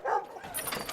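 Several dogs bark and yip excitedly in an outdoor kennel at feeding time in the morning, loud, close and overlapping with no pauses.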